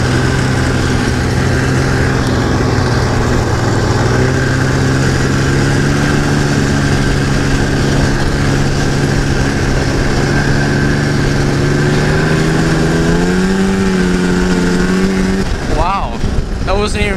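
An Arctic Cat Jag 440 snowmobile engine runs loud and close, holding a steady drone before revving higher near the end, then dropping off in a final quick rev.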